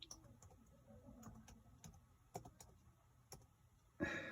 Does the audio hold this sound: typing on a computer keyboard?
yes